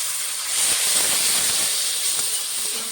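Water hits hot onion, garlic and ground-spice masala of turmeric, cumin, chilli and coriander for a puti fish curry, giving a loud, steady steam hiss that swells after a moment and holds throughout.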